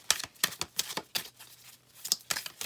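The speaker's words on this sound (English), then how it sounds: "let's try shuffling the cards" A deck of cards being shuffled, with a quick series of crisp, close riffling and snapping bursts in an uneven rhythm, and no voices.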